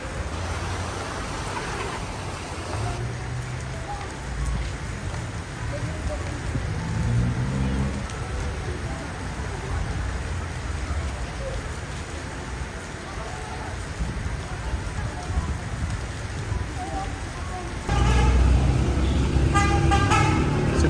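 Rain patters steadily on a street at a fairground, with traffic passing and occasional horn toots, while a person talks over it in Tagalog; the downpour swells louder near the end.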